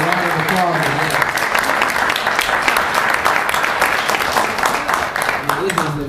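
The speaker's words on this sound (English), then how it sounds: "A round of applause." An audience at a business forum applauds with dense, sustained clapping that fills the room from start to finish, with some voices mixed in.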